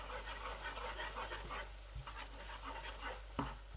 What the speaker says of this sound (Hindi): ज़ीरा ऑयल में भून के अपनी खुशबू छोड़ता है